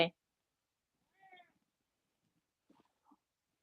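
A house cat gives two short, faint meows in an otherwise quiet room, separated by about a second and a half of near silence.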